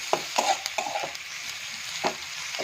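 Red chili powder roasts in hot oil, a bright close sizzle punctuated by a few quick stirring scrapes and knocks.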